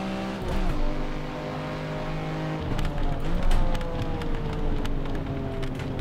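A car is driven hard in Assetto Corsa with a Need for Speed mod. The engine note rises and falls through gear changes and braking, with steady revving, loud and close, and a hissing texture like rain noise beneath it.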